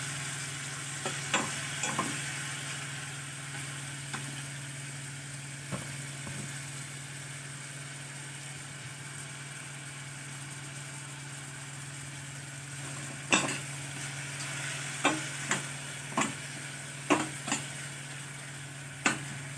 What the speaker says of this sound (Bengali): এবার জল দিয়ে টমেটোটাকে একটু আঁচটাকে জোরে করে টমেটোটাকে গলিয়ে নিচ্ছি।